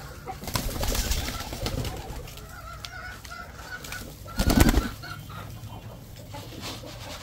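Soft, low cooing of pigeons murmurs through steady background noise, with a louder flutter or rustle midway.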